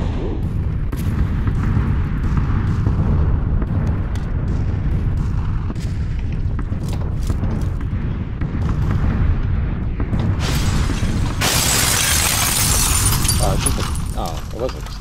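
A vehicle blows up in PUBG with a loud burst of shattering, booming noise near the end, following a stretch of game sounds and scattered impacts under a player's talk.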